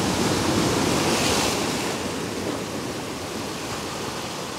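Sea swell rolls in and white water breaks on the shore at dawn during lure fishing from the coast, a steady, close, broadband wash of surf with some wind, no voices.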